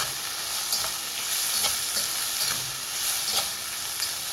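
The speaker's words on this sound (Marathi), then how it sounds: "हे छान आता आपण परतून घेऊ आणि पोहे आपले कलरफुल पण होतात." Ragi masala poha stir-frying in a pan, a dense, even sizzle with soft rhythmic scrapes of stirring, close and steady with no voices.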